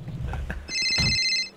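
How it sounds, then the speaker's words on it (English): A telephone rings with a bright, sustained electronic tone that sounds near and loud for about a second, following a short stretch of muffled, low background noise. "I got a phone call."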